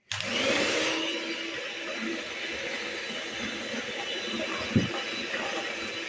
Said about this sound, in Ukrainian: Тепер я сюди буду додавати частинами цукор і буду продовжувати збивати, поки цукор не розтане